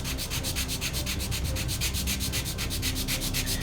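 Balsa-like model rocket fins for an Estes #1292 Wizard are rubbed back and forth on a sanding block, giving a loud, steady, rhythmic scratching of quick even strokes with no talk.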